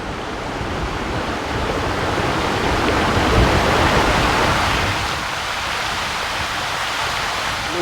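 A mountain stream rushes at the origin of the Ghataprabha river near Chaukul in Maharashtra, giving a steady, full broadband roar of flowing water that swells slightly mid-way and stays constant with no voices.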